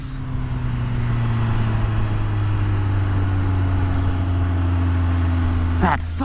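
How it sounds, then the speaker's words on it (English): A motorcycle engine at 2400 RPM hums steadily at a constant pitch, a low droning rumble running throughout, with a brief clatter near the end. "You can hear the torque of the motor."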